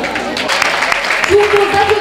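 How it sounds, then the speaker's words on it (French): An audience applauds at a school government presentation as a new student president is welcomed. The clapping is dense and steady, with a tonal sound rising near the end. "Tous vos applaudissements, s'il vous plaît."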